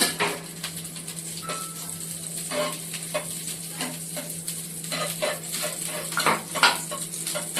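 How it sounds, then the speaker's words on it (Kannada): Ghee melts in a hot pan while soya paneer pulao is cooked, giving a steady close sizzle broken by repeated scrapes and light metallic clinks from a stirring utensil, with no talking. "ತುಪ್ಪ ಹಾಕ್ತಾ ಇದ್ದೀನಿ, ಕರಗಿ ಸ್ವಲ್ಪ."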